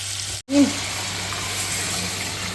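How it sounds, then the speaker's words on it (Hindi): Stock (yakhni) pours into a hot, sizzling pot for beef nalli pulao, giving a steady, close, rushing gush after a brief break, with no talk. "इसको भूनते हुए 5 मिनट हो चुके हैं। अब इसमें हम डाल देंगे यखनी।"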